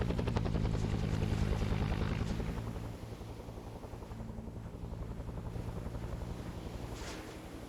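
A helicopter in a Vietnam War video game thrums with a steady, pulsing rotor chop, loud at first and then easing slightly as it continues without talk.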